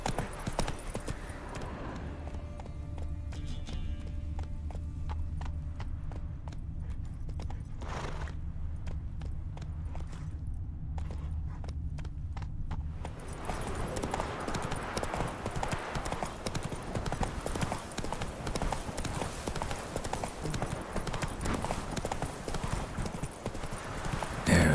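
Hoofbeats from a horse galloping in a video game, a steady rapid clip-clop that runs through the whole stretch over a constant low rumble, with the texture turning noisier and denser partway through.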